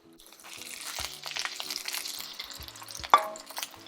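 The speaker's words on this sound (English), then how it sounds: "Now I'm going to brown my smashed potatoes. Put a little extra virgin olive oil in there. Pan is already hot." Smashed, already-cooked potatoes hit hot extra virgin olive oil in a pan and give off a steady close sizzle that builds, with a few clinks and knocks from the pan and utensils.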